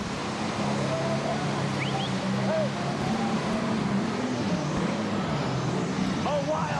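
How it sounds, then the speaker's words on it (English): Red Horse tractor roaring down the track pulling a sled at a 1994 NTPA tractor pull in Lexington, Alabama, a loud sustained engine drone with shifting pitch, with an announcer talking over it throughout. "here comes the Red Horse Tractor"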